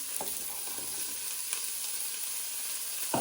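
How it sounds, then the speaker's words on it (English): Sausages with onion, garlic and peppers sizzling in a pan for jambalaya sausage pie, a soft, steady hiss broken by a few brief stirring scrapes, close and alone with no talking. "Now your sausages are nicely cooking, you want to add in all your onion, garlic and peppers"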